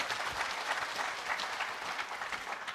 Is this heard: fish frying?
no